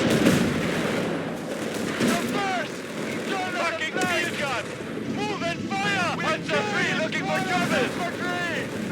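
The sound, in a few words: machine gun fire in video game Company of Heroes 3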